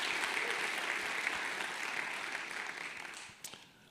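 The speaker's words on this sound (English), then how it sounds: "let's have a round of applause for the gold sponsors" An audience at a Bitcoin policy summit applauds the gold sponsors, a soft, broad wash of many hands clapping that slowly fades toward the end.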